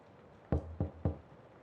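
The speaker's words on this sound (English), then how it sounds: "I hear a light knock on my front door." Three light, evenly spaced knocks on a front door in the Kimochii Classroom video game, crisp and fairly close against a quiet background.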